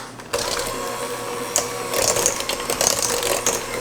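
An electric mixer beats an egg into pound cake batter, starting abruptly and running with a busy mechanical whir, punctuated by clicks and rattles of the beaters against the bowl.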